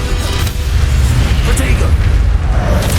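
The Incendio fire spell is cast in Hogwarts Legacy, giving a loud, continuous whooshing roar with a deep booming low end across the whole moment.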